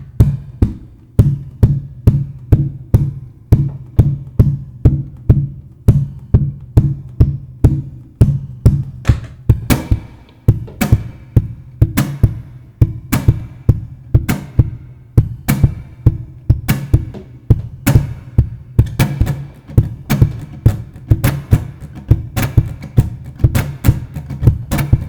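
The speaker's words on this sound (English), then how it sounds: "So I'm going to go straight in and do the loops, the beat first" A looped beat thumps out steadily at close range, a punchy percussive pattern of regular low hits with sharper accents that repeats over and over at an even tempo, with no voices.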